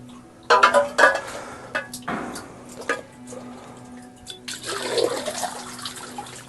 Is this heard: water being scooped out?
yes